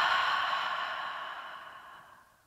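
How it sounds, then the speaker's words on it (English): A slow, deep breath pushed out through a wide-open mouth during a yoga breathing exercise, a soft breathy rush that starts full and gradually fades away over a couple of seconds, close and alone. "Open the mouth wide as you exhale."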